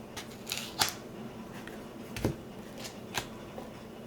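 Kipper fortune-telling cards being drawn and handled, with a few soft, close papery flicks and snaps spread unevenly over a quiet background.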